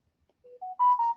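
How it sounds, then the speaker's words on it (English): A mobile phone notification chime, a short rising sequence of clean electronic beeps, close and clear against silence. "That's my phone is pinging constantly."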